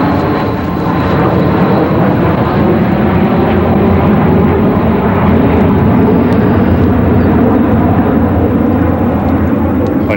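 An aircraft roars overhead above the Hackensack Meadowlands, a loud, steady broadband engine rumble filling the whole stretch without pause.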